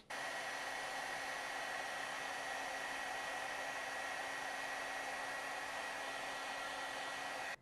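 A heat tool blows hot air steadily to melt embossing powder on a card, a continuous close whirring roar with a faint tonal whine, unbroken from start to finish.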